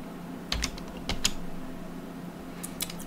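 Computer keyboard keys click in short bursts and scattered taps against a low steady fan hum, nearby and fairly soft, with pauses between the bursts.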